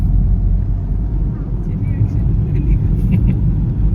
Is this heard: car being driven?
yes